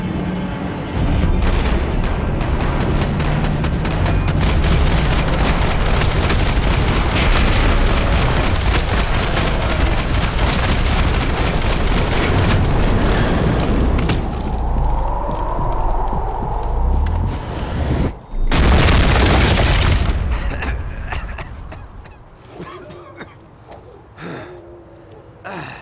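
Sustained game gunfire in the shooter Max Payne 3, a loud dense barrage of shots and booms lasting most of the stretch, thinning out near the end.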